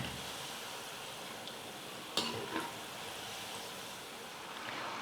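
Potato balls deep-frying in hot oil, a steady fine sizzle with a couple of brief louder crackles partway through and no talking.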